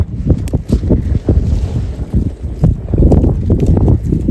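Strong wind buffets the microphone in low, rumbling gusts in the Nadabet desert, loud and uneven throughout.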